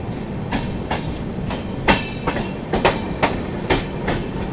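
The 12621 Tamil Nadu Superfast Express runs on rails as it rounds a curve, heard from a 2AC coach with a steady rumble and evenly spaced clickety-clack wheel beats.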